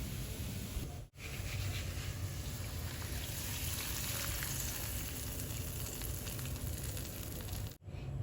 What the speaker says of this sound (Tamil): இப்போ இந்த தாளிப்பை நம்ம அந்த மோர் குழம்புல சேர்த்துக்கலாம்.